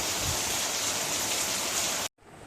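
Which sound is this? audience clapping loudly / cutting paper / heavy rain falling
heavy rain falling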